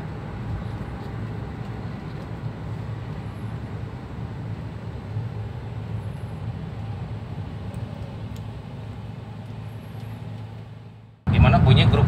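Daihatsu Xenia 1000cc car fitted with a Blackcore turbo cruising at about 40, a steady low engine and road drone heard from inside the cabin, ending in a sudden louder broadband burst.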